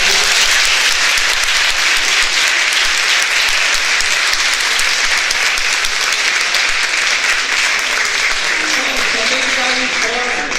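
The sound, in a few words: audience applause for the professor in an auditorium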